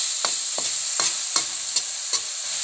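Onion and tomato sauté in a pan with a steady sizzle, broken by about six regular scraping stirs from a spoon, close and fairly loud in a home kitchen.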